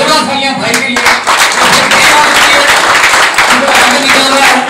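Dense, steady applause from an audience at a calendar launch event in Kadapa, loud and continuous throughout, with voices mixed in beneath the clapping.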